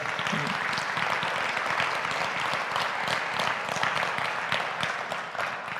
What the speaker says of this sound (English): So let's give our panel a big round of applause